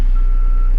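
A backhoe's reversing alarm gives a single loud, close electronic beep over the steady low rumble of the idling diesel engine.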